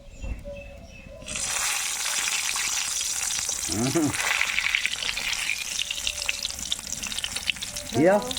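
Eggplant slices hit hot oil with a sudden loud sizzle that carries on steadily, while a spatula scrapes and stirs now and then. Only faint sounds come before the eggplant goes in.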